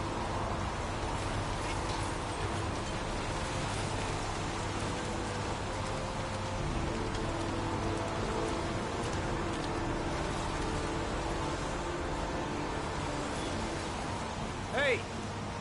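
Steady rain pours down in Heavy Rain, a soft, even hiss of falling water that continues throughout, with a brief faint electronic chirp near the end.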